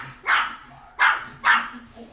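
Dogs barking indoors in a home, three loud, close barks spaced about half a second to a second apart, with no talk over them.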